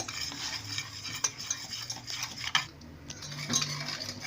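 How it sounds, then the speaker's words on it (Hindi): A spoon stirs dry cocoa powder and icing sugar in a saucepan, making soft, steady scraping with a few sharper clinks against the metal, close and fairly quiet, with no talking. "Cocoa powder, icing sugar. अब हम इसे मिक्स कर लेंगे।"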